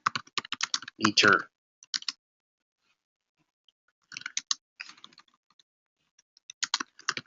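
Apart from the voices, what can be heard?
typing on a computer keyboard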